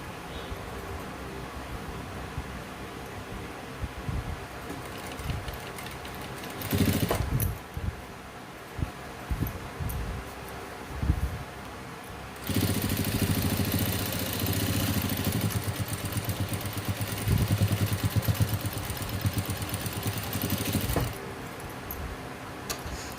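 A sewing machine runs a top stitch along a cloth purse made from leftover fabric, in steady mechanical bursts: a short run, then a longer continuous hum with a pause between, close and fairly loud.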